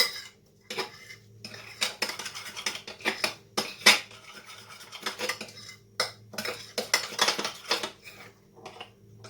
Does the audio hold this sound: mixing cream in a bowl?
yes